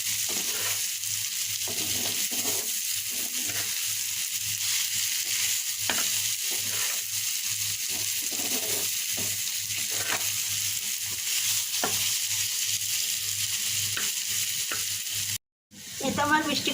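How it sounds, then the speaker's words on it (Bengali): Pumpkin bhaji with onion is stir-fried in a pan: a steady sizzle runs under repeated scraping strokes of a spatula at an irregular rhythm, close and clear, with no voices, and a brief gap near the end. "এখন এই পেঁয়াজের সঙ্গে একটা ভালো ভাবে নেড়ে চেড়ে যেভাবে ভাজিটা করলে রুটি পরোটার সঙ্গে একটু ভালো লাগে এখানে নেড়ে চেড়ে সুন্দর করে ভাজিটা করে নিতে হবে"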